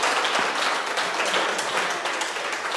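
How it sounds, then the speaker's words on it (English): An audience claps in a steady round of applause, dense and fairly close, sustained through the short stretch without talking. "let's give her a round of applause"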